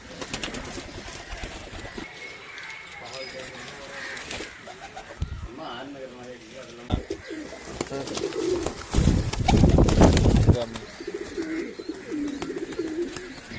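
Pigeons bought for cooking coo softly in a household setting while people talk over them and other indoor noises, with a louder rustling burst toward the end.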